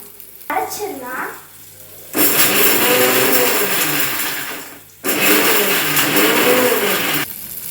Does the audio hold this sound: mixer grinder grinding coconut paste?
yes